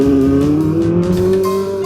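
Tyrrell 001, a 1970s Formula One car, its engine droning loud and close with a steady, slowly rising pitch, no talk over it.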